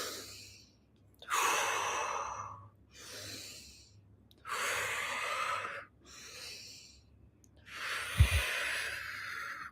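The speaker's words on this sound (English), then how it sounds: "Okay, so breathe out," Slow, deep exhalations alternate with quieter in-breaths during a breathing exercise, each long airy breath out rising and fading in a steady rhythm, close and soft with no talk.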